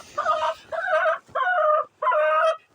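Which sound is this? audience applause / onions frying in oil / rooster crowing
rooster crowing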